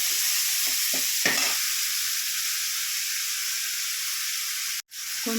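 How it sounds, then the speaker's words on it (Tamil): Onion and tomato sauté in a pan with a steady, close sizzle and hiss, broken early on by several scraping stirs of the spatula and a brief pause near the end. "வெங்காயம் வதங்கிடுச்சு. கொஞ்சம் தக்காளி போட்டுக்கலாம்"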